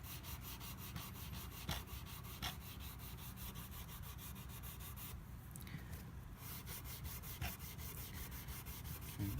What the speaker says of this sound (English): We've been polishing since we started with the second kind of file